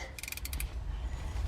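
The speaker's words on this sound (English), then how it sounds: "You want to put the wrench up onto the nut," Ratcheting clicks of a wrench loosening a nut on the starter of a Jeep Grand Cherokee 3.6, a quick burst of several sharp ticks over a low steady rumble.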